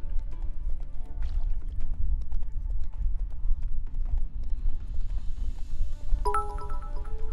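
Roach, a horse in The Witcher 3: Wild Hunt, clip-clops along in steady rhythmic hoofbeats over low ambient game sound, with a brief bright chime near the end.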